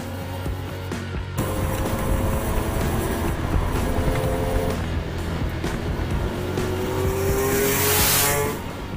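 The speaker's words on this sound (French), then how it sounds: "Nous avons accompagné ses premiers tours de roue sur le circuit Paul Ricard." SRC RS 475 racing motorcycle with a heavily tuned Honda NSR 400 V3 two-stroke engine in an Aprilia RS 250 chassis, lapping Circuit Paul Ricard; a sustained, loud engine wail holds steady, with pitch shifts as it passes and a brief drop near the start.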